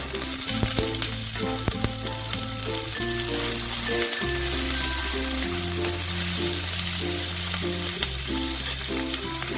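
Lightly browned onion and spring onion shoots fry in a pan for a fish curry, with a loud, constant close sizzle and occasional stirring clinks. Background music plays underneath, and nobody speaks.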